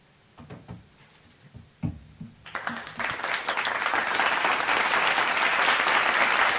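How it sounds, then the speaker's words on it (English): Scattered claps and a few voices build into full, dense audience applause that swells and holds loud and steady to the end. "Hold your applause, please."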